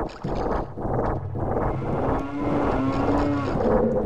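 A cow in a Zelda video game moos in a long, low, drawn-out call that holds steady and slowly rises, loud and close with no talk over it.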